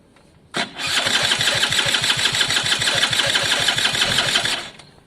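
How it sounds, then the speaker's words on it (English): A small Italjet Formula 50cc two-stroke scooter engine starts with a sharp catch and settles into a steady, buzzy, rapid-firing idle for several seconds, close and loud, then cuts off. "I mean, it's a little engine,"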